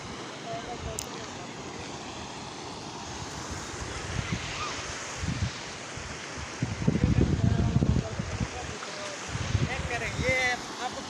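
Loud, steady rush of turbulent water churning nearby as it flows into a dry canal, with surges of heavier flow and a voice talking over it at times.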